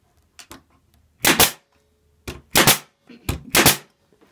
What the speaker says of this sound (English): So we'll go ahead and fire a couple here to a little piece of wood